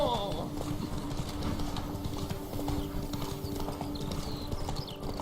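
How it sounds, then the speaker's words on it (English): A horse gallops in The Witcher 3 video game, its hooves drumming a quick, steady clip-clop rhythm close at hand, with faint background game sounds and bits of voice mixed underneath. "Run, Roach"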